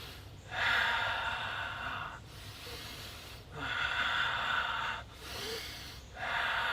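Slow, deep breathing during a shoulder side-raise exercise with light weights: three long, audible breaths at a steady rhythm, each lasting over a second, close and clear with no talking.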